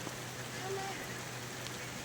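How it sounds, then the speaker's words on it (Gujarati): Rain falls in a village as a soft, steady hiss of drops on surfaces, fairly faint and even throughout, with a hint of a voice in the background. "વરસાદ હાવો છે"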